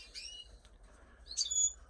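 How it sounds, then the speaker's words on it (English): A pet bird calls with a few brief high chirps, near and fairly faint, over a low steady background hum. "So this is my bird."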